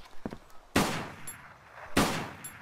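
Two sharp, loud gunshots crack about a second apart in DayZ, each with a ringing tail, preceded by a couple of faint clicks.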